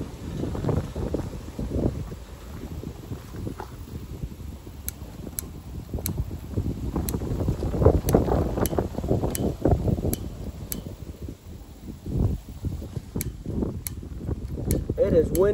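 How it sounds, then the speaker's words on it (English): Outdoor wind gusts buffet the microphone near a rocket stove being lit on a ranch, a steady low rumble rising and falling, with scattered sharp ticks from the stove and no speech. "It's windy today."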